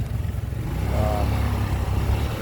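A Case SC tractor engine rumbles past at a tractor and engine show in Portland, a low steady chugging that swells slightly as it draws near, with no voices.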